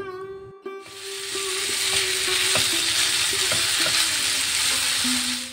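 Food stirring and frying in a hot pan with chili and soy seasoning, a loud steady sizzle under repeated scrapes and knocks of a spatula, close up with no talking.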